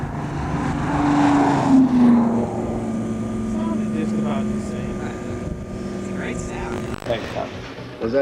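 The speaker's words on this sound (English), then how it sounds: "the Defender's exhaust sound in the series is completely real" A Viper Defender's exhaust from its Chrysler V10 engine: a steady, low, droning engine tone that holds at a constant pitch for several seconds, heard under a voice speaking.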